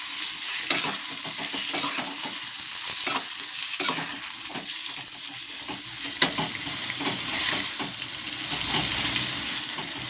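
Onion and tomato sautéing for kara chutney, a loud, steady sizzle and hiss from the pan with scattered stirring clicks throughout, no voices.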